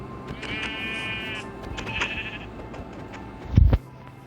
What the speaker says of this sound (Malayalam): വെള്ളത്തിൽ പോവല്ലേ ആടെ?